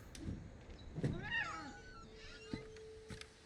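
A cat in the video game What Remains of Edith Finch gives a short, clear meow, faint and close against quiet surroundings with a few soft clicks.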